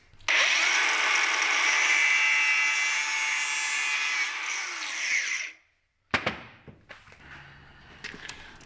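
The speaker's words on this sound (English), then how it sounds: "So you can just take your grinder 90 degrees to this" An angle grinder cuts a line on a part for a Coyote engine swap in a Bronco, making a loud, sustained high whine for about five seconds that winds down, followed by scattered clanks and handling noises.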